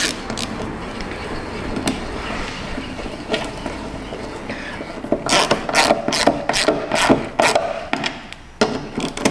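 A ratchet handle turns a bolt while a 2019 Kia Optima fuel filler neck is worked on, with some rubbing and handling noise first, then loud, close bursts of rapid ratchet clicking.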